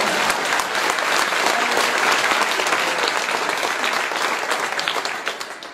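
Dense applause from an audience at a Jain religious discourse, steady and loud for most of the stretch before thinning into scattered claps at the end.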